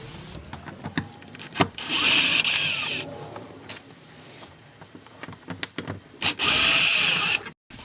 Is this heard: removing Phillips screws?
yes